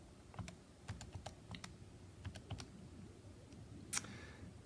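Buttons on a graphing calculator being pressed to enter a quadratic equation, a quiet scatter of close, light clicks in short bursts, with one sharper tap near the end and no voices.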